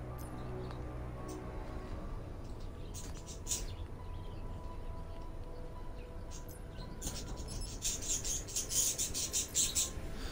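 Small birds chirp and tweet intermittently in the background, faint and distant, with brief high calls clustering in a couple of spots over a steady low hum.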